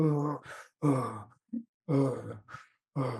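A voice imitates Kussmaul breathing, the deep, fast respiration of hyperglycemia, with several loud breathy inhale-exhale cycles in quick rhythm, close and alone.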